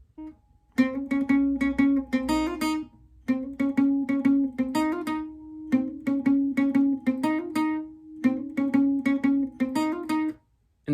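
Acoustic guitar plays the looping riff, clear plucked notes in quick rhythmic runs over a steady repeated low note, close and alone, with short pauses between phrases.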